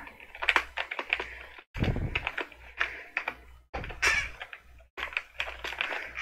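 Keys clatter on a computer keyboard in quick irregular runs with short pauses between, close and fairly faint, a rather troublesome keyboard used while coding exercises in Portugol Studio.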